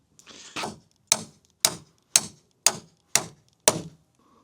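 Ratchet tightening anchor bolts on a DIY workshop frame, heard as a series of seven sharp, evenly spaced clicks about half a second apart, close and fairly loud with nothing else over them.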